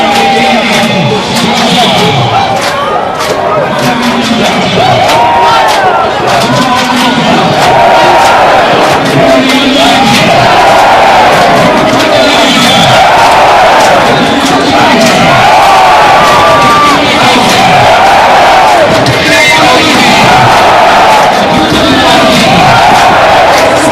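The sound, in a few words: rugby stadium crowd cheering and applauding Kenya Shujaa team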